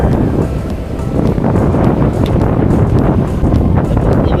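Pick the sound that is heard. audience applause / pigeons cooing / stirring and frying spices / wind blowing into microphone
wind blowing into microphone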